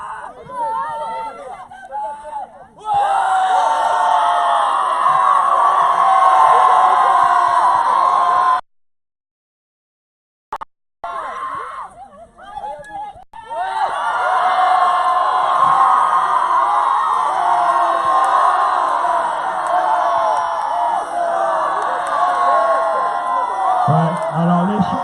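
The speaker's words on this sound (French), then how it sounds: "Qui peut crier le plus fort?" A crowd shouting and yelling as loudly as possible in a contest at the Château de Tiregand, two long bursts of massed whoops and bellows split by a sudden silence, loud and near.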